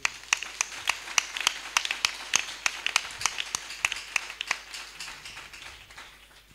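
A church congregation claps in a steady, fairly quick rhythm of sharp individual claps, moderately close and fading slightly toward the end, with little talk over it.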